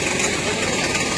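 A tractor engine idles at a roadside accident site, a steady close mechanical rumble with a broadband drone and no break over the short stretch.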